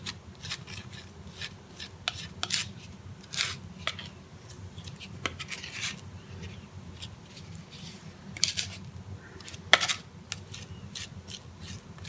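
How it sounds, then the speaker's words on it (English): Patching compound being mixed with a scraper against another scraper, quiet repeated scraping and rasping strokes in an uneven rhythm, close by, with no voices. "using the other scraper, just try to mix it on it itself here."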